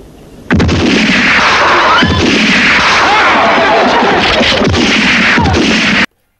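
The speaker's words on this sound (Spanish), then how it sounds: "la explosión de la dinamita asustó tanto al caballo" Dynamite blasts go off in quick succession in a film scene from The Good, the Bad and the Ugly, each followed by harsh rumbling and crackling debris, close and overwhelming, then abrupt silence.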